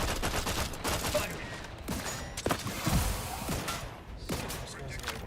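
Scattered gunshots and heavier booming fire crackle through a noisy video game battle, several sharp reports spaced irregularly over a constant din, with voices shouting now and then.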